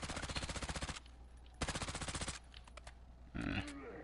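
Rapid automatic gunfire from a heavy-recoil weapon in a video game, two sustained bursts of fast, evenly spaced shots separated by a short pause, followed by scattered fainter in-game impacts and a brief loud blast.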